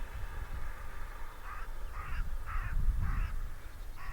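Crows cawing outdoors along a cycling route, with a run of about five harsh caws at a steady rhythm, mid-distance, over a low rumble of wind and road noise.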